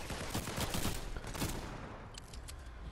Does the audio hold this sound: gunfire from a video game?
yes